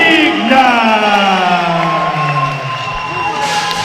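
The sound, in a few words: boxing crowd cheering the announced winner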